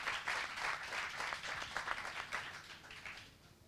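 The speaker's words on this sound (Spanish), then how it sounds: "Un aplauso para ella." A crowd applauds steadily at a Podemos political party event, a dense patter of many hands clapping together throughout, fairly close and even in volume.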